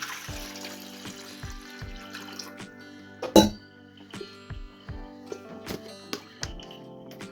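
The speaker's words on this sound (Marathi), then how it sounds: "त्याच्यामध्ये घालूया पाणी" Water is poured into a metal pot holding five eggs for boiling, with trickling and gurgling and a loud clink midway, set against rhythmic background music.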